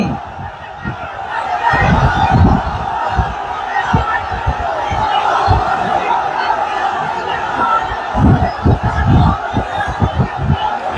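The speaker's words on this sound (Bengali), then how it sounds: "আসমান জমিন কাঁপিয়ে তোলো তাকবীর ধ্বনিতে" A crowd at a religious gathering chants the takbir together, a dense roar of many voices rising in loud surges with rhythmic peaks throughout.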